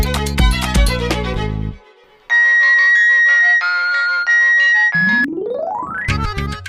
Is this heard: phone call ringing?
yes